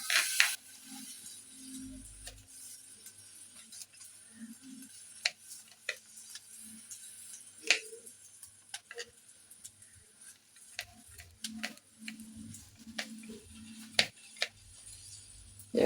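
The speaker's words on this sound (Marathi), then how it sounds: "एकदम बारीक चिरायची आहे लसूण खूप बारीक चिरायचे" A kitchen knife chops garlic finely on a board: faint, irregular light taps and ticks, sparse and quiet, with soft scattered knocks between them.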